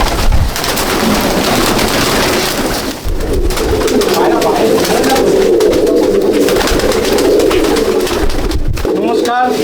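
Andhra and Madrasi pigeons at a pigeon loft in Halisahar keep up a dense, loud, continuous cooing and rustling close by, with people talking throughout.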